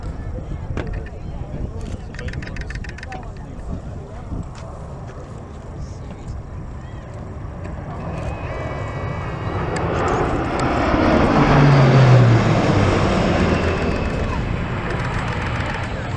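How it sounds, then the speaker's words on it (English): A C-27 Spartan followed closely by a C-130 Hercules fly past at the Wings Over Illawarra 2019 air show, a broad propeller-engine roar that swells and peaks near the end, with a commentator talking over it. "So we have the C-27 Spartan coming through, and hot on the heels, C-130 Hercules."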